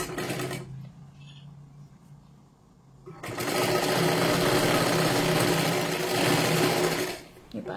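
Sewing machine running steadily while stitching tucks on a size 36 blouse, a brief burst early on, then a quieter pause and a long loud continuous whir of several seconds.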